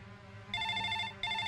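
A telephone rings in a police station with a close, bright electronic trill in two short bursts separated by a brief pause.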